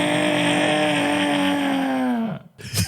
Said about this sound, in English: It sounds like a broken horn.